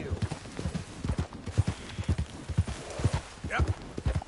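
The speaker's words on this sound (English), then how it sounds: "That's a nice looking horse you have there." Horse hooves clip-clop in a steady rhythm close by in Red Dead Redemption 2, with a brief whinny near the end while someone talks over the hoofbeats.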